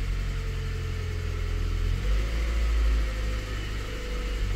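A car engine idles steadily at close range in a workshop while a Foxwell NT809BT bidirectional scanner reads diagnostics, with a low rumble that swells briefly midway; the car has a failing ignition coil.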